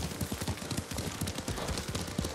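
Hooves clip-clop in a quick, steady gallop rhythm as a horse is ridden in the video game Ghost of Tsushima, close and moderately loud, with no talk over it.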